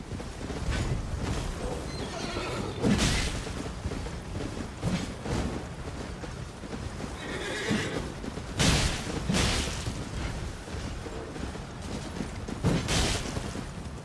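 Horse neighing and hooves during a fight in the video game Elden Ring, several loud whinnies and impact bursts spread across the stretch over a continuous rumbling game soundscape.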